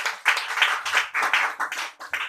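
A church congregation clapping together in a steady, fairly quick rhythm of bright hand claps, moderately close and without talk.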